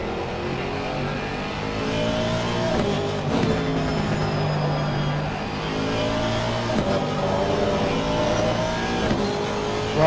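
Ferrari GT race car in a simulated 24 Hours of Spa endurance race accelerating hard, a steady loud engine drone with rising and shifting harmonics held throughout, no voices.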